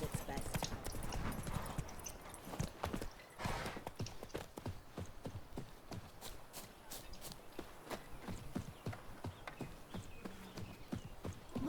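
Horses' hooves clip-clop on a track during the baron's men's horse races in Velen in The Witcher 3, a rapid, uneven run of close hoofbeats with voices talking over them.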